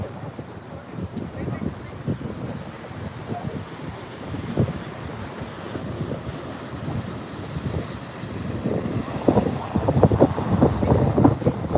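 Wind buffets the microphone over the wash of water and waves near the Golden Gate Bridge, with a boat moving through the surf nearby.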